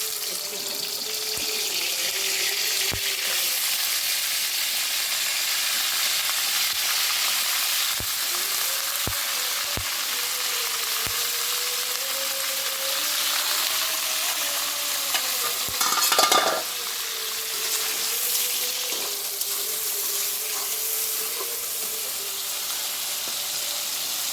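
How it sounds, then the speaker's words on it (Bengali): Dried sea fish (shutki) from Kuakata frying in hot oil, a steady unbroken sizzle that runs throughout, with occasional clicks and scrapes of stirring in the pan and no talking. "প্রথমে আমি তেলের মধ্যে শুটকিটা দিব, যেন কাঁচা গন্ধ যেন না আসে।"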